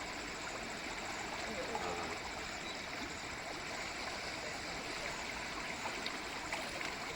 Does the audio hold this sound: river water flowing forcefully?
yes